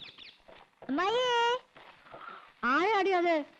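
A cat meows twice, each a drawn-out wavering cry, close and clear, separated by quieter rustling; it may be a person imitating a cat.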